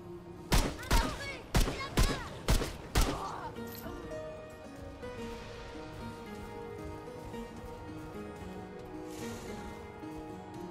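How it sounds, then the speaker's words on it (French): Gunfire in the shooter game Remnant II: five or six loud, sharp shots in quick succession open the sequence, then give way to a quieter game ambience with low tones and a sustained hum. "Il faut que je tire sur le mec"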